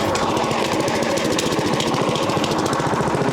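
A small engine on a portable sawmill runs with the choke on, making a loud, close, steady chugging drone with a fast pulsing beat and no pauses.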